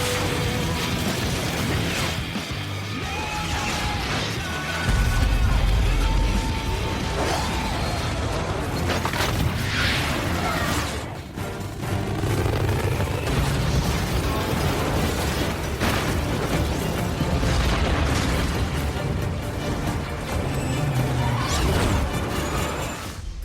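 Explosions in a movie bombing scene: repeated heavy booms, crashes and bursts over dense rumbling noise for over twenty seconds, loud and continuous without speech.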